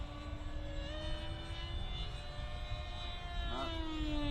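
A model airplane flies at a model airshow, its engine giving a steady, droning whine with a pitch that shifts slightly as it holds position, with faint crowd noise underneath.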